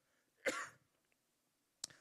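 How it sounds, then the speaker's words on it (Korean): A preacher coughs once sharply during a Sunday sermon, and a second short cough follows after a quiet pause, both close and alone. "기침이 나오는데 좀 양해해 주시기 바랍니다."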